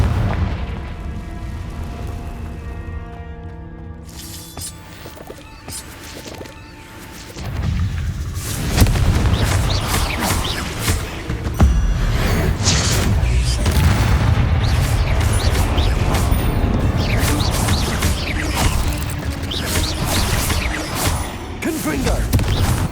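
Confringo blasting spell explosions in Hogwarts Legacy: after a quieter opening, a long stretch of heavy booms and bursts follows, with repeated blasts rolling one into another in loud combat.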